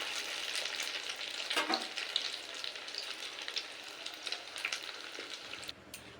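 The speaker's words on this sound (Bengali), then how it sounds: "তো দ্বিতীয় ব্যাচে সয়াবিনগুলো ভেজে তুলে নিয়েছি" Soybean chunks fry in hot oil in a wok, a steady dense sizzle with occasional stirring clatter and no talking.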